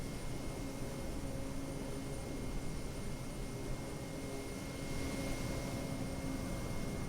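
Kodiak 100 single-engine turboprop in Microsoft Flight Simulator cruising with a cargo pod: a steady, even engine drone with a faint tonal whine, constant and unbroken throughout.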